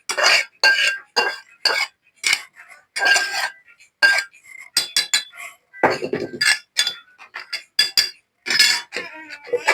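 Mint leaves pounded in a stone mortar: repeated close, hard clinking strikes in an uneven rhythm, loud and alone without speech.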